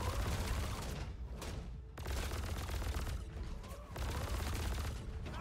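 Ship's guns in the space game Star Citizen fire in sustained rapid bursts, loud and dense, broken by brief pauses between volleys, with no voices over the shooting.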